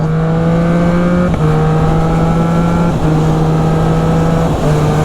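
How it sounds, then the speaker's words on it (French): A Triumph Street Triple 660S A2 motorcycle engine revs hard and close, its steady drone briefly interrupted by about three quick quickshifter upshifts, each followed by the pitch climbing again, with no talk. "à 7000 tours, il faut que je change de rapport."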